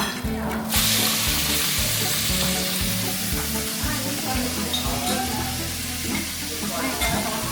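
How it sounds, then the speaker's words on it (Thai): Squid stir-fried in a hot pan, a steady sizzle with rhythmic scraping and stirring strokes, close and continuous, with someone talking intermittently over the cooking. "อันนี้ยายจะผัดปลาหมึกค่ะ"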